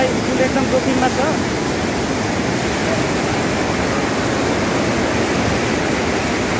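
A river rushes under a bridge that is at risk, giving a loud, continuous broadband roar of flowing water that holds steady throughout.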